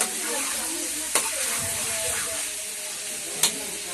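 Chicken 65 sizzles and hisses loudly in a pan while being stirred, a dense steady frying noise broken by two sharp scraping clanks of the spoon against the pan.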